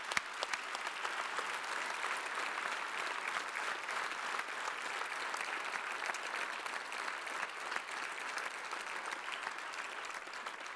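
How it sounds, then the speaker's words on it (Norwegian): Sustained applause from a conference audience as school finalists are announced at an energy innovation awards event, steady dense clapping throughout with no talk. "Skikkelig applaus for Vågsbygd!"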